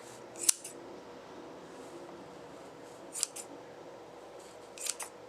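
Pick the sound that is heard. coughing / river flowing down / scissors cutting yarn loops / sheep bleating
scissors cutting yarn loops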